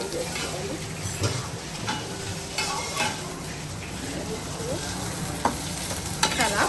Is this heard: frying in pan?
yes